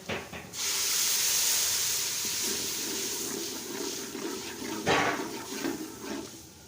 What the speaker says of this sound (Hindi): अदरक लहसुन हमने डाल दिया